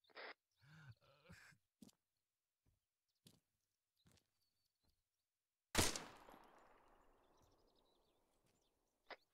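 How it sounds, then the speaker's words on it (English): A single sharp video game gunshot cracks out and rings off into a fading tail, preceded by scattered faint clicks and thuds in an otherwise quiet scene. "did anyone else hear gunshot?"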